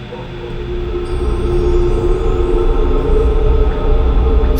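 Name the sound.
light rail train running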